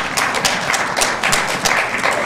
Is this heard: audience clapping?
yes